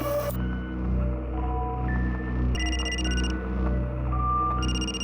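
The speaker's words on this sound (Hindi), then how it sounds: "आंटी का कॉल।" A phone rings in short electronic bursts of high, repeated tones over a low steady hum, two ring phrases sounding close and clear.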